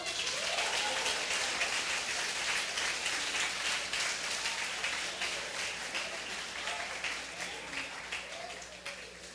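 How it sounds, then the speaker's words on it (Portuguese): Church congregation applauding the Lord during a sermon, a sustained wash of many hands clapping that slowly thins and fades over about nine seconds. "Aplauda ao Senhor."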